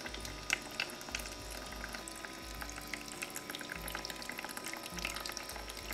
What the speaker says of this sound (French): L'eau qui coule dans l'évier que l'on va remplir.